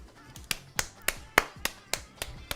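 Close hand clapping, about eight distinct claps in a slow, steady, slightly uneven rhythm, each sharp and crisp with short gaps between.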